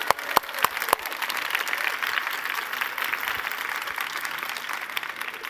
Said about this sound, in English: could you join me in giving a fantastic laughter and round of applause to all the speakers?